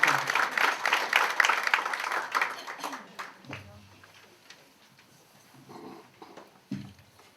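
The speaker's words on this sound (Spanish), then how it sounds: "Les damos un aplauso." An audience claps for speakers at a talk on care for victims of workplace violence, a dense burst of applause lasting about three seconds before fading into a quieter room with a few scattered knocks.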